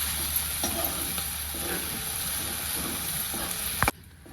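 Fresh shelled green peas fry in hot oil with a continuous close sizzle and hiss. Spoon stirs and scrapes against the pan recur throughout, and the sound cuts off abruptly near the end.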